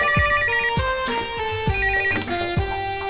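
A telephone ringtone plays a repeating electronic melody with bright tones and soft beats, loud and close, looping steadily for a few seconds in a domestic drama scene with no talking.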